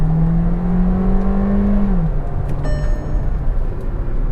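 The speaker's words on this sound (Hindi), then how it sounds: "क्या साउंड आता है इस इंजन का, ये देखो।" Volkswagen Virtus sedan with a 1.5 TSI engine and DSG gearbox revs up, holding a rising tone before dropping off after two seconds, loud and close with no talk over it.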